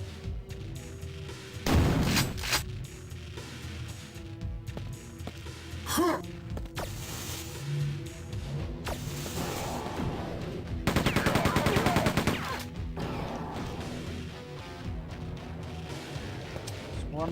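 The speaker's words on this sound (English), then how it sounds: "There's something up there shooting me." Enemy gunfire in Quake II on PC sounds as scattered sharp shots and a sustained burst of rapid fire amid ongoing game noise, moderately loud throughout.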